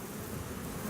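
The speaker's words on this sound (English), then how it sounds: "I know there's a lot of bees in there." Bees swarm in a dense, steady buzz at a beehive opened for inspection, a close, continuous drone with no talking.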